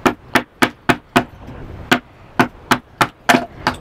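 A hatchet splits wood while a starling birdhouse is being made: about eleven sharp, close chopping strikes land in uneven bursts with brief pauses between them, and no voices are heard.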